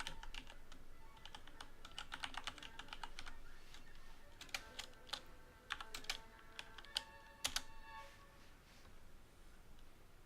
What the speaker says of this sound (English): So we're going to write out a little bit of code here